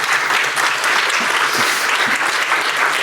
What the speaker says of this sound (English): please welcome our first speakers with a very, very warm applause